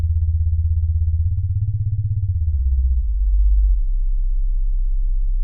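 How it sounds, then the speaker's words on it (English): Deep, sustained bass rumble from a Roland Alpha Juno 2 synthesizer, its filter shaping a low tone that swells and glides downward in pitch, playing steadily and alone in a studio. "Lovely deep bass rumble in the studio. That is just the filter."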